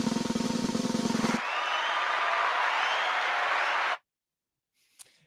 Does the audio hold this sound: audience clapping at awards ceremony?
yes